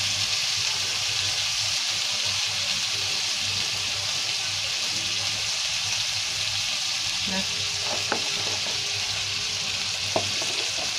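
Spice masala sizzles and fries steadily in a pan with a splash of water, a constant loud crackling hiss with a few faint clinks of stirring near the end.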